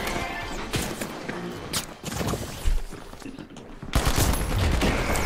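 Shotgun blasts in the shooter game The Finals, repeated sharp bangs amid chaotic crashes and gunfire, dense and loud throughout with a heavier burst near the end.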